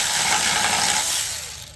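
A ratchet wrench works at a rusty bolt during a valve adjustment on a 2009 Acura RDX, close and fairly loud, with steady metallic clicking across the clip that fades slightly near the end.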